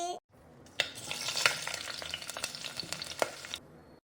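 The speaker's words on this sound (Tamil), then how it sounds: "எண்ணெய ஊத்திட்டியா அப்படியே வெங்காயத்தை போடு" In a cartoon kitchen, onions drop into hot sesame oil and set off a dense, crackling sizzle that runs for about three seconds and then cuts off abruptly.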